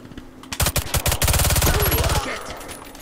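Rapid automatic gunfire from Warface Breakout, a multiplayer shooter game: a few single shots, then a loud, close, sustained burst of evenly spaced rounds that cuts off abruptly, leaving faint game ambience.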